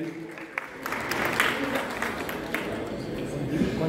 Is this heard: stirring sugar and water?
no